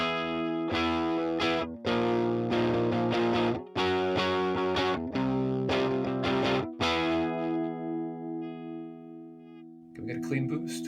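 An electric guitar with humbucker pickups plays through an overdrive pedal, giving loud, distorted chords and sustained notes that ring out near and fade toward the end, with a little noise after.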